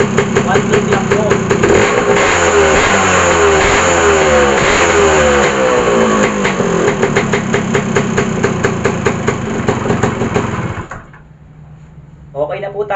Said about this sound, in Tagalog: napa-andar na po natin ang motor